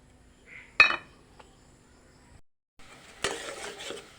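A wok on a stove being cleaned, giving sharp metallic clinks and scrapes: one loud clank early, a few small taps, then a quiet gap and a busier burst of clattering scraping near the end.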